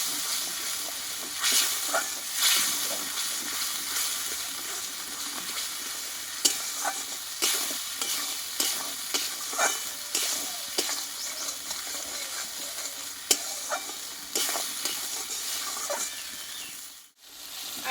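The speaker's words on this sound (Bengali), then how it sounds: "এবার এই মিক্সিটা ধুয়ে আমি একটু জল দিয়ে দেবো দিয়ে মশলাটা একটু ভালোভাবে কষিয়ে নেবো" Spice paste with ground coriander and cumin, thinned with water, sizzles and fries steadily in a pan while a spoon scrapes and stirs it in repeated strokes, close and moderately quiet.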